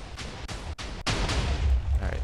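A burst of booming explosions from a small TNT cannon in Minecraft, several blasts in quick succession with deep low rumble, loud and close.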